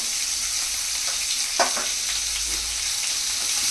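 Chopped onions and slit green chillies fry in a pan for oats upma, a loud, steady hiss with a brief clink of a stirring spoon in the middle and no talking.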